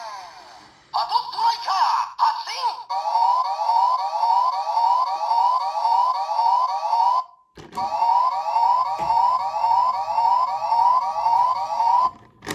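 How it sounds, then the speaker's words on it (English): Toy siren from a Gokai Machine 01 button, a loud warbling electronic wail that runs steadily for several seconds, cuts briefly, then resumes, heard close up with no talk over it. "has lights and sounds. So you hit this button."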